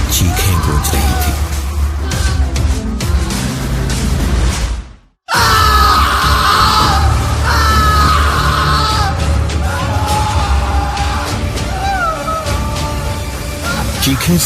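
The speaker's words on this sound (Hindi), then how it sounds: "पूरे माहौल में बस कौशिक की चीखें गूंज रही थी।" A man screams and yells in a horror story sound effect, loud and continuous across the clip, broken by a brief silence midway before the shrieking resumes at full strength.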